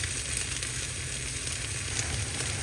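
A cheese egg omelette frying in a pan, giving a steady, even sizzle and faint crackle throughout, close but fairly quiet, with no voices.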